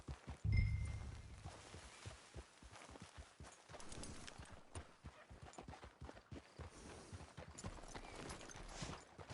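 Horse hooves clip-clop in the video game Red Dead, a steady walking rhythm of close hoof strikes after a brief low thud at the start, with faint ambient background.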